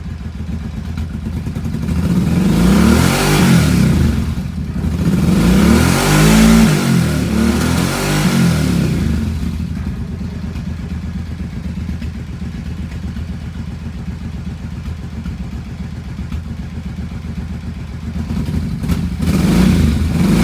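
A Kawasaki KFX700 ATV engine idles with a throaty mid-range drone after a head gasket replacement, swelling into two strong revs early on, then settling back to a steady run before rising again at the end.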